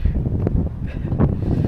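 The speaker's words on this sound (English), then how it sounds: "oh, windy" Gusty wind buffeting outdoors in Wales, low rumbling bursts and rustle rising and falling over a couple of seconds, close and blustery with no talking.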